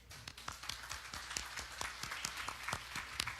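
Faint, sparse clapping rises from a symposium audience welcoming a deputy director, with individual claps standing out at an irregular pace against a quiet, distant room.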